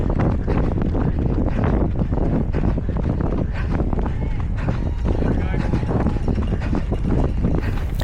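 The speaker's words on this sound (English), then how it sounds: "We were running into a headwind at this point" Steady wind roars and buffets the microphone while a runner pushes into a headwind during a road race in Vancouver, a continuous loud rush with faint footfalls underneath.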